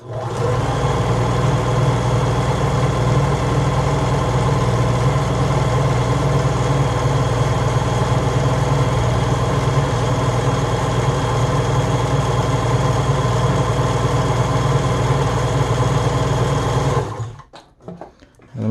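A Bernina 811 sewing machine runs fast and steadily while sewing an elastic stitch, a loud, even mechanical hum and rapid needle chatter that keeps going for about seventeen seconds, then stops abruptly with a few soft clicks.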